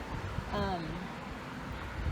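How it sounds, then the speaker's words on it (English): Gusty wind rumbling against the microphone outdoors, with a brief tonal warble partway through. "Oh, it's windy out here."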